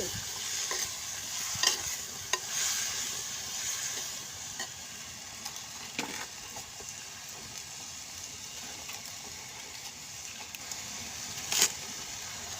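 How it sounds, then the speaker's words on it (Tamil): Drumstick leaves (murungai keerai) stirred in a hot pan, giving a steady close sizzle and hiss broken by occasional light clinks of the spoon against the metal. "முருங்கைக்கீரை கிண்டிட வேண்டியதுதான்"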